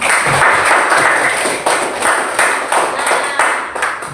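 A fifth-grade class of children claps hands together in unison, loud, close and rhythmic, sharp slaps grouped in regular bursts.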